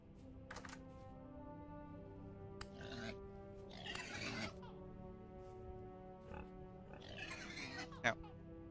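Pigs in the video game Vintage Story make several short grunts and oinks at intervals over quiet game background, fairly faint, with some clicking.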